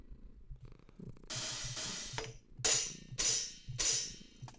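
Acoustic hi-hat samples from a Logic Ultrabeat hi-hat bank, a few soft closed ticks followed by several bright, sizzling open hi-hat hits in a loose rhythm over a low rumbling background.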